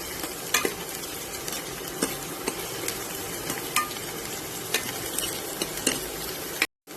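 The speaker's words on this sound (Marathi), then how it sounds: "कांदा थोडासा परतत आल्यानंतर त्याच्यामध्ये मी चेचून ठेवलेला लसूण घालत आहे आणि ते दोन्ही व्यवस्थित परतून घेत आहे" Onion and crushed garlic sautéing in a pan, a constant close sizzle broken by sharp scrapes and taps of a spatula as they are stirred.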